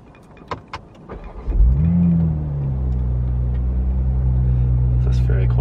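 A few clicks, then a Toyota A90 Supra engine cranks and fires up with a deep roar that settles into a loud, steady low idle rumble.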